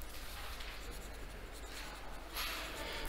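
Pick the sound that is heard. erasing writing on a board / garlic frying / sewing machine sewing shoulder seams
erasing writing on a board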